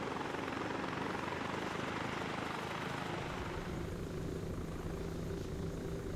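A helicopter in the video game Arma 3 drones with steady rotor thrum and broad whooshing noise, continuous and fairly close, gradually shifting in tone during an orbiting funnel maneuver.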